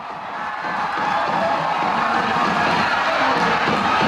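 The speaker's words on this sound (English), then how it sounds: "And this crowd of Filipino supporters are in rapture." A large crowd of Filipino football supporters roars after a Philippines goal against Hong Kong, a loud, sustained wall of cheering and shouting that swells and holds.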